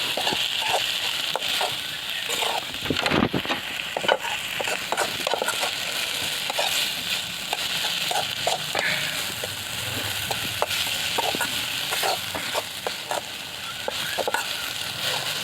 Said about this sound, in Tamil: எதையோ போட்டு வறுத்துட்ருக்கீங்க